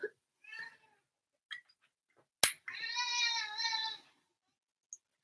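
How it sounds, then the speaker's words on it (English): A cat gives a drawn-out, wavering meow close by, after a few faint short chirps and a sharp click, with quiet gaps between sounds. "What's that noise? It's Kitty."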